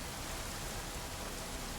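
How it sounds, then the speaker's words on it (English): Steady rain falls in a video game world, a continuous even hiss of droplets with no voices, moderately quiet throughout. "Right now, like while it's raining."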